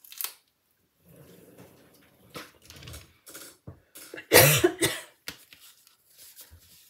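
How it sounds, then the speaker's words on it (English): A single loud, harsh cough bursts out close by in the middle, surrounded by softer handling noises and light rustling from paper crafting at a table. "where does a cough come from?"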